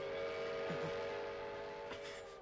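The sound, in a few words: train in an anime episode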